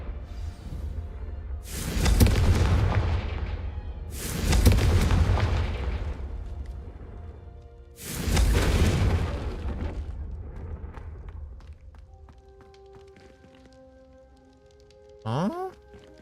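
Three heavy booming blasts from the Confringo blasting curse in the Hogwarts Legacy video game, each rolling out slowly, followed by a quieter tonal hum and a brief rising whoosh at the end.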